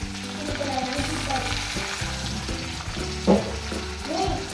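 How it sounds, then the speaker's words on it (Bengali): Chopped garlic dropped into hot oil in a pan while cooking chicken curry, a steady close sizzle with stirring scrapes and a brief louder burst near the end, no talking. "এবার এর মধ্যে দিয়ে দিলাম রসুন কুচি।"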